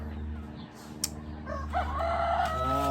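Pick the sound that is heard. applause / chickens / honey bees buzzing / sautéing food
chickens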